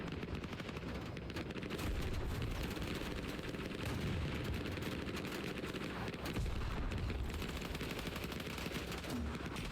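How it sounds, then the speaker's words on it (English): Incoming mortar fire amid a dense battle in the Vietnam-war video game Hell Let Loose: Vietnam, with rattling machine-gun bursts and low booming impacts layered into a constant, loud roar. "Mortars coming in now."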